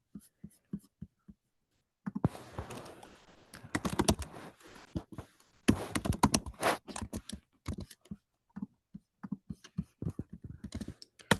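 A computer keyboard clatters with close, quick bursts of keystrokes, separate taps at first, then dense runs of typing broken by short pauses.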